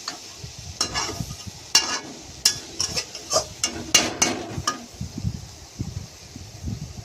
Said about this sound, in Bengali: আবার নেড়ে চেড়ে নিতে হবে।